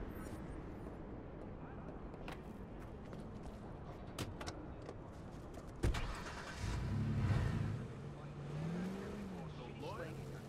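A car engine in the Watch Dogs video game revs up midway through, a moderately loud rising and falling drone that swells for a few seconds over a steady low background hum, then settles back down.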